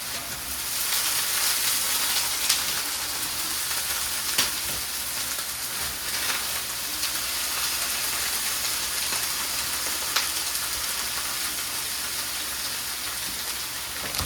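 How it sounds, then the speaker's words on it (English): Loud, continuous sizzling from onions frying in a hot cast iron pan, with a few sharp pops and crackles and no talking. "I'm sure there's lots of sizzling that you're hearing"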